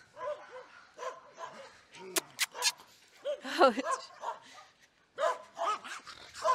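A puppy named Pokos at the Ciapek dog shelter in Hajnówka barks and yips in short, sharp bursts, close by, with whimpering notes between and other dogs faintly in the background.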